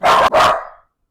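A dog indoors barks at an approaching mail carrier: two loud, close barks in quick succession, the second trailing off, then silence.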